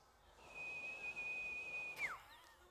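A voice imitating a faint, high-pitched scream like a dog whistle: one thin steady tone held for about a second and a half, ending in a quick downward slide, heard alone at low volume.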